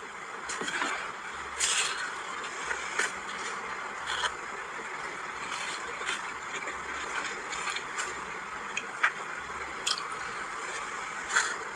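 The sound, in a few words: person eating rice, chewing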